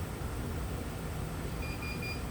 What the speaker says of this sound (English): that beeping sound means it's recognized the ATR attachment